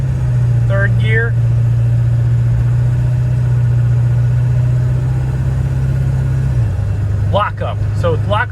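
A 7.3 Powerstroke diesel truck with a custom tune pulls steadily through its gears, a loud droning engine note that holds and then drops as it shifts, with someone speaking briefly at the start and end.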